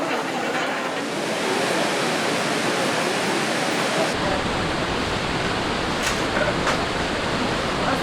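Ouzoud waterfall in Morocco roars as a dense, continuous rush of falling water, loud and close, with no breaks and no talk.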